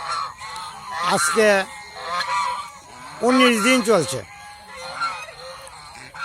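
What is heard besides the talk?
geese honking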